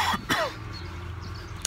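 A person clears their throat and gives a couple of quick, close coughs at the start, followed by a quiet pause with a faint catch near the end.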